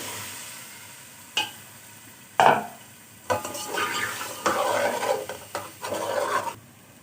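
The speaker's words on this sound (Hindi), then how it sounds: "और अब इसकी भुनाई करनी है।" Spices being stirred and roasted in a pan, heard as a series of dry scraping, rasping bursts with short pauses between strokes, close up over a soft background sizzle.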